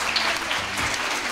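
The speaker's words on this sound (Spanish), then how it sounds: "un aplauso para él" Continuous clapping from a group at a school radio program, an even, lively patter filling the whole moment.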